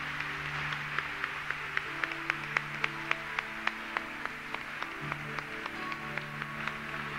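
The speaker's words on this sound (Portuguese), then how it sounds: "Você pode aplaudir com toda alegria o Santo Evangelho" A church congregation claps along in a rhythmic, fairly distant patter of hands to celebrate the Holy Gospel at a Catholic Mass, steady claps over a soft background of organ or music.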